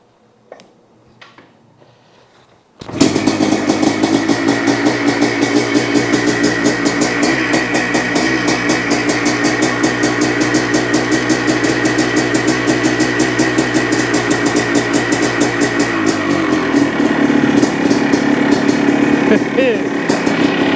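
A cold 1984 Yamaha YZ490 two-stroke motorcycle engine starts after a few faint knocks, then idles loud and close with a fast, even, steady beat, dropping slightly lower near the end.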